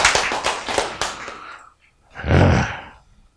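A lecture audience claps in a short burst of a few sharp, close hand claps that quickly fade, followed after a brief pause by a soft breathy exhale.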